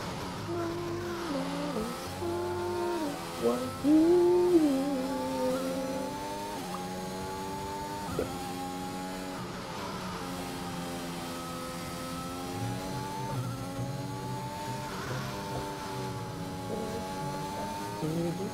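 An Aston Martin Formula 1 car in the F1 2021 racing game at Austria. Its engine whines and shifts pitch steadily as the driver lifts off the throttle, with revs rising and falling under a continuous hum.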